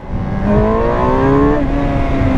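A 2008 Suzuki GSX-R750 sport motorcycle revs hard under full throttle in first gear, pitch climbing quickly and steadily, loud and close.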